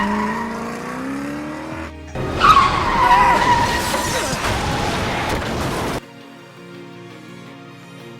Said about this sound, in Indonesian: Tae-sik menabrakkan mobilnya untuk menghambat laju Oh Myung